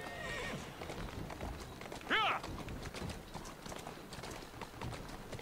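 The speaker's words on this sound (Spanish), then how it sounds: "¡Vamos! ¡Corre! ¡Caballo!" A horse whinnies loudly in Assassin's Creed Syndicate, with hoof clip-clop and carriage noise from the game running steadily under it.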